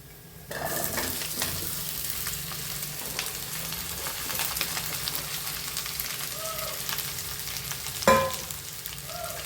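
Ivy gourd frying in a pan, a steady close sizzle with stirring scrapes running throughout, and a sharp clatter just after the eighth second.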